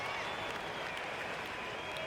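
Continuous crowd applause and cheering in an NBA 2K25 basketball video game forms a dense, even wash of sound, steady throughout with no breaks.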